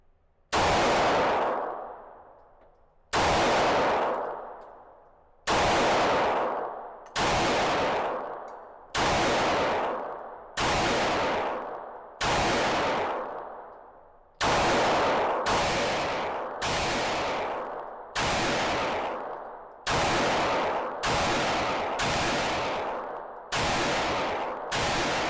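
A Glock 45 Gen 5 pistol fires about fourteen loud, close shots at a target, spaced at first by a couple of seconds and then quickening into a faster string near the end, each crack trailing off with a brief echo.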